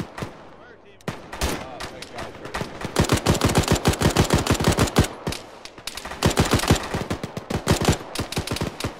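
Rapid gunfire in the ShackTac tactical shooter game, dense bursts of sharp automatic shots in quick succession, loud and close, with a brief gap before a second long burst.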